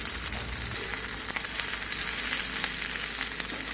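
Ghee and a little oil sizzle in a pot while chicken mandi is being prepared, making a steady, close, continuous frying hiss with small crackles and no talk.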